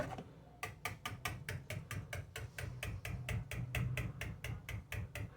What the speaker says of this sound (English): I'll whisk it just as good as I can